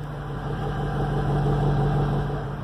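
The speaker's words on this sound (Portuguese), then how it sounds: "Olha o ronco dela na lenta." A 2022 BMW X6 M Competition idling: a steady, subdued low engine hum, fairly quiet and even throughout, heard alone without voices.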